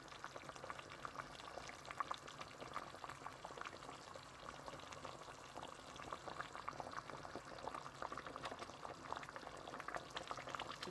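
Pistachio sauce with chili simmering in a pot, a soft, steady bubbling and popping that is quiet and close, with no talking.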